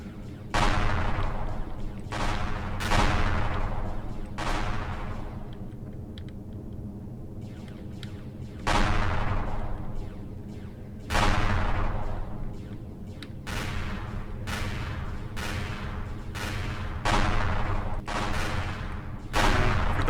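Plasma cannons fire and land in the space game Empyrion Galactic Survival, giving a dozen or so heavy, booming blasts at irregular intervals. Each hit decays in a long rumbling tail, loud and close, over a low steady engine drone.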